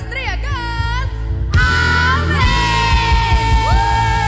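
Children at a church kids' service yell together very loudly, a sustained group shout ringing out over background music and noise, with an adult voice leading before the cry.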